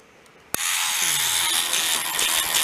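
An electric scrubbing brush starts with a sharp click and runs steadily, its buzzing whir under a scrubbing rub as it works alcohol across a 1950s Formica table top to lift small scratches, fairly close and continuous with no talk.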